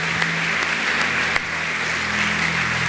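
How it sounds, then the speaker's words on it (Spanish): Steady applause from a church congregation during a sermon, a dense patter of many hands clapping continuously throughout, with a low hum underneath. "Vamos a aplaudir más."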